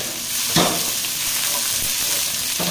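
Radish pieces stir-fry in a hot pan over a medium flame, giving a steady loud sizzle with a couple of sharper scraping strokes of the spatula.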